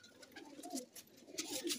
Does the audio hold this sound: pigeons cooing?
yes